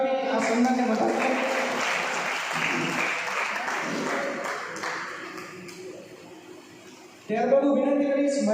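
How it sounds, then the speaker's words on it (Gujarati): Audience applauding at an honour ceremony for elders held by a medical association in Jamnagar: sustained, dense clapping for several seconds, tapering off before a voice and tonal sound break in near the end. "આપણે જોરદાર તાળીઓથી આ સન્માનને વધાવીએ."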